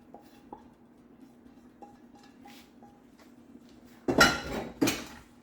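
After a quiet stretch with a few soft clicks, sausage is added to a pan for a breakfast tater tot casserole and mixed, giving two short bursts of clattering utensil-on-pan noise near the end.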